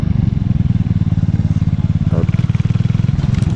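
Archive Scrambler 125 single-cylinder motorcycle fitted with a Megaton silencer, revving hard at high rpm with a rapid, close, throaty pulsing beat, rising briefly near the end.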